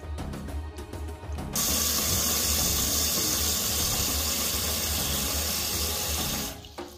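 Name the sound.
toilet tank filling with water after adjusting fill valve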